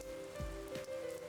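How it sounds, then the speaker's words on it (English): Rain falling in the video game Persona 4 Arena Ultimax, a soft steady patter on surfaces under a low sustained game tone, with a few brief swells. "It's raining."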